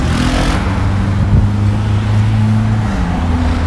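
A car passes along a Beirut street, its steady engine drone and road noise sitting close and continuous throughout with no talking.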